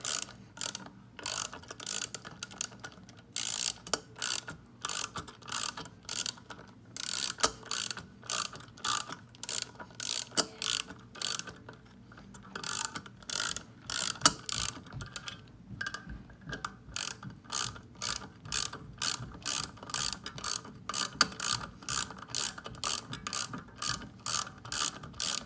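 A hand ratchet snugs the bolts during an LS1 valve spring install, rapid rhythmic clicking in repeated short strokes, close and clear with no talking.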